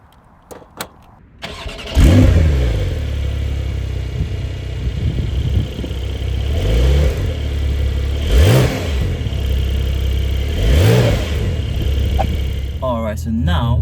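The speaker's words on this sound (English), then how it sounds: "so now taking the Carrera on a quick drive" A 2023 Porsche Carrera 4S in sport mode starts with a few clicks, then its engine roars up and runs through several rising revs and gear pulls, loud and close, with someone talking over it.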